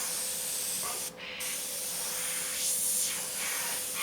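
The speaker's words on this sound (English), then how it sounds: "this airbrush works like a piece of crap" An airbrush sprays paint in a steady, close hiss lasting several seconds, with a brief drop near the start before the airflow resumes and swells again.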